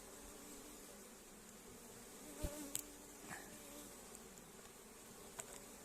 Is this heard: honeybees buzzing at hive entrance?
yes